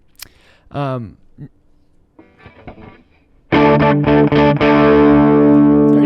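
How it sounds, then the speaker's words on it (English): Electric guitar played through a drive and reverb effect for a specific style of tone, a few sparse plucked notes followed by loud, sustained ringing chords with a wash of reverb, close and alone. "So let's add the reverb back because I thought the reverb was good."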